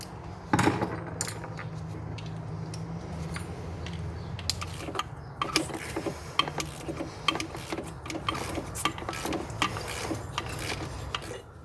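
Wrench removing a stud from the oil cooler bracket on a Dodge/Chrysler 3.6 Pentastar engine: metallic clicks, ratcheting taps and small tool clatter, close and fairly quiet over a steady background hum.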